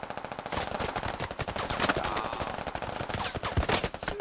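In a military video game, a machine gun fires bursts at a radio: rapid, loud, crackling volleys of automatic fire that continue almost without pause for several seconds, with heavier impacts near the end.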